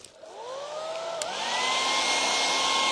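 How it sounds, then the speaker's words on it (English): A hair dryer switches on and whirs steadily, its tone rising as it speeds up into a constant loud blowing, drying paint on a craft sign. "let's just dry that off really quickly with the hairdryer"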